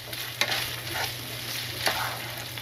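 Bacon fries with cayenne pepper in a pan for a carbonara sauce, a continuous close sizzle with two brief louder stirring clinks, short and without speech.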